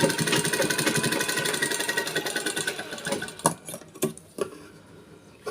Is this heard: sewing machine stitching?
yes